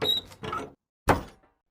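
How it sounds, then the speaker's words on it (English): In a radio drama, a motel room door is handled with a short rattle, a second scraping movement and then a solid thunk after a brief pause, close and clear. "Raphael opened the door to room 13."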